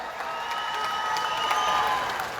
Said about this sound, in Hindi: ट्रूडो साहब के लिए जोरदार तालियां हो जाए।